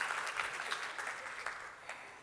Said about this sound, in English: Another round of applause, please, for the Acting Chief Ombudsman